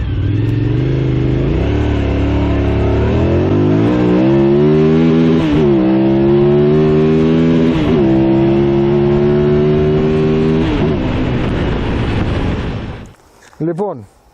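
A 25-year-old two-cylinder Suzuki TL1000R motorcycle engine revs loudly and steadily, its pitch climbing in stepped surges before cutting off abruptly near the end.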